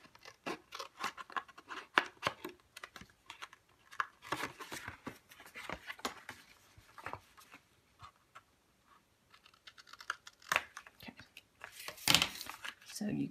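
Scissors snip paper while a handmade art journal is trimmed, in quiet, irregular clusters of crisp cuts with paper rustling and crinkling in between and a soft voice talking throughout.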